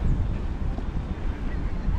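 Wind buffets an outdoor microphone in downtown Rio as the weather turns, producing a continuous low rumbling roar with gusty swells throughout.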